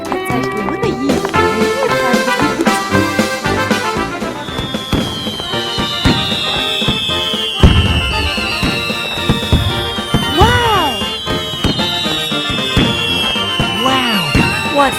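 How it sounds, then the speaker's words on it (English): Cartoon fireworks going off in a party scene, a dense string of loud bangs, crackles and whistling rising shells over bright music, continuous throughout. "It's time for the firework."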